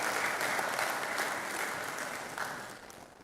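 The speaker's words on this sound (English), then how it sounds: "Please give her a round of applause." Graduation audience at a business school executive programme ceremony breaking into applause, a dense, even patter of many hands clapping that stays steady and then tapers off toward the end.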